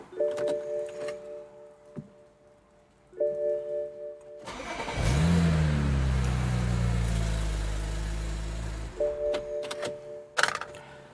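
A BMW E92 335i with the twin-turbo N54 engine, just fitted with new injectors after leaking and starting trouble, cranks briefly and fires up, then settles into a loud, steady idle close by before the revs drop away.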